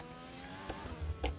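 An F1 car engine in F1 2020 at the Hungary race, briefly rising on throttle with a few sharp bursts, fairly faint and short.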